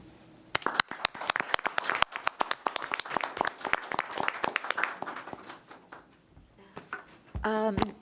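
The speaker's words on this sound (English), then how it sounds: "join me in extending a big round of applause to all that are present here" Applause from a conference audience at a dispute resolution forum in Tokyo, honouring presenters and contributors: sparse, scattered claps building into a steadier round, moderately near, ending with a brief burst of voices.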